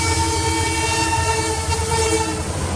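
A heavy freight train rumbles past steadily, with a continuous low roar, rhythmic wheel clatter and a sustained horn-like tone, loud and close throughout.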